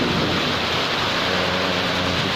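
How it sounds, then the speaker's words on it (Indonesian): Heavy rain pours down at a market junction in Panumbangan, Ciamis, a loud, dense and steady broadband roar with deep rumbling underneath, continuous throughout and with no voices over it. "Sekarang sedang ada hujan"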